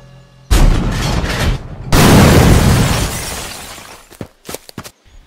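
A tank fires on an enemy sniper watchtower in a plastic toy army stop-motion battle, with a loud blast, a second heavier booming explosion trailing into rumble, then a few sharp cracks of debris.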